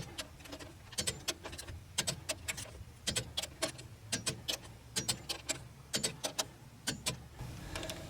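Axle bolts on a 1977 Ford F250 full-floating axle are tightened with a torque wrench, giving quiet bursts of sharp ratcheting clicks in uneven groups throughout.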